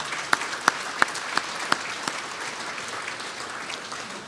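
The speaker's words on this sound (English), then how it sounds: "Nice round of applause for our current board." Scattered applause at a truck and tractor pulling awards banquet, starting as a few sharp, distinct claps that fade into a soft, thin patter from a modest crowd.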